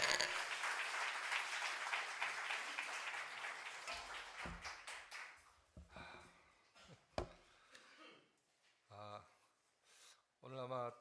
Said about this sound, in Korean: 목사 나오실 때 한번 박수로